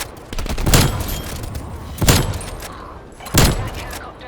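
Three loud, sharp Swiss K31 bolt-action sniper rifle shots ring out in Call of Duty, roughly a second and a half apart, each with a booming low crack and a short decaying tail.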